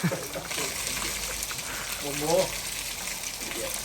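Water gushes and splashes close by in a continuous rushing wash, with people talking over it.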